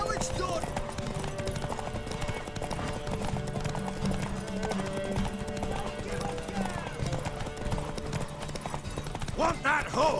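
Horse hooves clip-clop steadily through a race in The Witcher 3 video game, a rhythmic galloping beat under continuous game music and voiced character dialogue.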